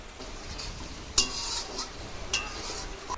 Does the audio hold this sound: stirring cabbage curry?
yes